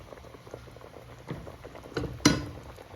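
Hilsa fish pieces laid into hot mustard oil and mustard paste in a pan, a soft bubbling patter with a few louder sizzling pops near the end, fairly quiet and without speech.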